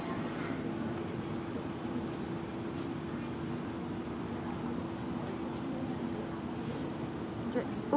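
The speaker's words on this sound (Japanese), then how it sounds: "琴電バスだそうです。" A Kotoden bus idles at a bus stop, giving a steady low engine rumble and hum with continuous traffic noise around it. Faint high squeaks and clatters come through, and no one speaks.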